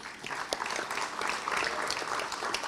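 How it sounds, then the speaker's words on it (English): Applause from an indoor audience at a school shared-time ceremony, moderately loud and continuous with dense clapping throughout. "give him a little round of applause"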